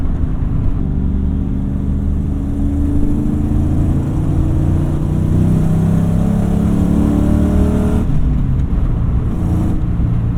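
A 1996 Ford Mustang GT V8 pulls hard with rising engine pitch, a brief dip as the manual gearbox shifts near the end, then climbs again, loud and close from inside the car with no talk.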